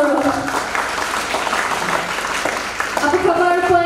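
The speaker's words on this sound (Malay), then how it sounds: "Berikan tepukan yang gemuruh." Audience applause at a women's technical entrepreneurship forum in Malaysia, a steady wash of clapping throughout with a voice speaking over it in the middle and again toward the end.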